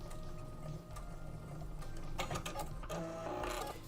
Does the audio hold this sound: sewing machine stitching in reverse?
yes